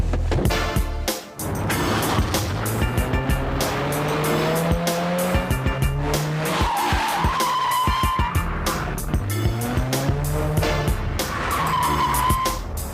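Mini Cooper cars in a chase scene, tires squealing and skidding continuously over revving engines, loud and close with rising and falling screeches throughout.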